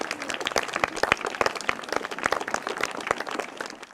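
Loud, close applause at a gathering at a Buddhist vihara, many sharp individual hand claps in a brisk, uneven rhythm that stays strong for the whole stretch.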